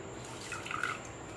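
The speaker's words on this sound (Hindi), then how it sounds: "इसके जो पानी होंगे इस तरह से आप जो है कि निचोड़ लीजिए" Water drips from a wrung-out old broom, with a few faint, scattered drops over a soft, steady background hiss.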